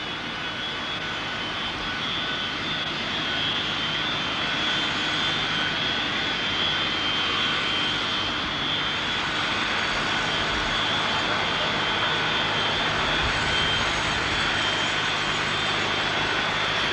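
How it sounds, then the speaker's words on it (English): A United Boeing 737-500 idles at the gate at San Francisco airport in 1993 with its jet engines running, a loud, constant whine and roar that holds steady throughout. "We got a United 737-500 in the new colors. 951 UA. Getting ready to push back from the gate."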